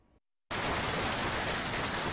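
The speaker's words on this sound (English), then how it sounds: "Large chunks of ice falling from thunderstorms. This is hail." Hail pours down during a thunderstorm in a steady, dense, loud hiss of ice striking a surface, starting abruptly after a brief silence and continuing unbroken.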